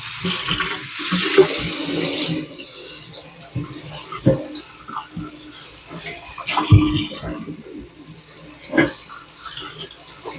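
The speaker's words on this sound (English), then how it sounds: "let me hit it with a little cold water" Cold tap water runs and splashes unevenly for several seconds over a meat grinder part being cooled, with occasional knocks and clunks of it handled beneath the flow.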